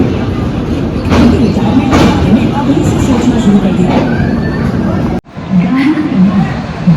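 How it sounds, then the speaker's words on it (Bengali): Continuous low rumble and rattle of a departing Rajdhani Express train, close and loud, with voices chattering over it and a brief cut near the end. "ট্রেন ছেড়ে দিল বেশ টাইমে"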